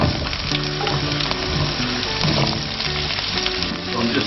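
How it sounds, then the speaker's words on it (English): Garlic cloves and finely chopped onions fry in basil-infused oil in a pan, making a loud, dense, continuous sizzle with faint stirring movement close by and no voices. "Right, fire up the pan. Down south, basil-infused oil. Bit of garlic cloves. Very chopped up onions."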